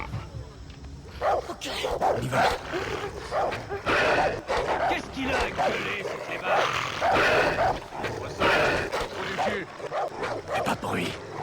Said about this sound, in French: Des chiens.